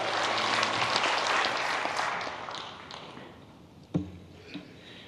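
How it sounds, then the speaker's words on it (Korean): Church congregation applauding at a New Year revival service, a dense wash of clapping that fades over a few seconds and ends with a couple of sharp knocks. "우리 하나님을 다시 한번 감사 박수."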